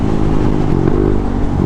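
A Yamaha NMAX V2 scooter rides along in a steady, loud engine drone mixed with wind rush, with no letup over the short stretch.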